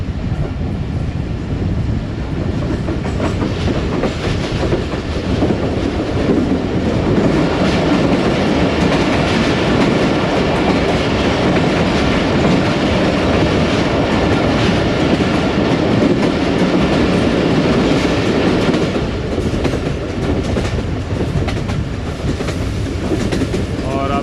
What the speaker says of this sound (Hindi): ट्रेन हमारी सुहावा टनल्स में से गुजरी है।